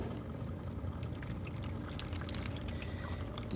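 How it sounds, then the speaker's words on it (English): Fuel draining from the yellow valve of a truck's fuel water separator, a steady close trickle with scattered drips and splashes running without pause. "it's just going to drain the fuel water separator"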